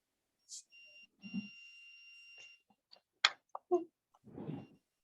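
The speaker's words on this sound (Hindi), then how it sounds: "बेटा ये बीप की आवाज जो किसके माइक से आ रही है?" During an online class, a steady electronic beep comes through a student's microphone, faint and intermittent, with scattered clicks and brief voices around it.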